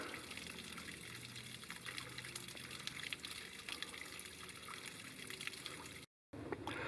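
Water trickles and splashes steadily nearby along a forest trail in Nantahala National Forest, a continuous soft hiss with no voices, briefly cutting out near the end.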